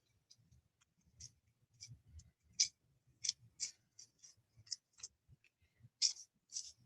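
Close-up bursts of paper torn by hand in short uneven strokes, separated by quiet gaps, with soft low rustling in between.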